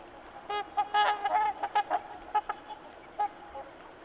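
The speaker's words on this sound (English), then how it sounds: "These comical little ducks always make me smile with their displays." Small ducks calling during their courtship displays, a quick series of short, nasal, honking calls with brief pauses, close and clear over a quiet outdoor background.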